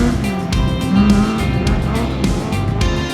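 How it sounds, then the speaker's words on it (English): A Ford Escort Mark II classic rally car, two-wheel drive, driven hard on a rally stage: a loud, steady engine roar with rising revs and gear changes, heard close and continuous throughout. "Owen Moynihan and John Brophy in the Mark II Escort were second 2-wheel drive classic and showed some spirited driving"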